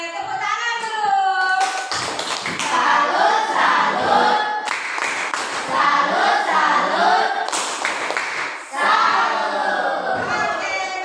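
A class of students claps their hands in several loud bursts, with chanting voices running between and under the clapping.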